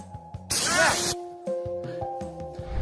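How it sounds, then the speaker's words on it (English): A sharp, loud burst of bear spray hisses for about half a second amid shouting voices and other background noise. "Wait till he gets close for the bear spray"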